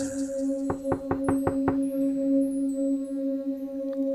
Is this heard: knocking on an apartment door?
yes